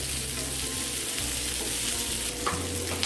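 Ingredients for a homemade pizza sauce frying and sizzling steadily in a pan, a continuous close hiss with a low hum beneath and occasional stirring scrapes, no voices.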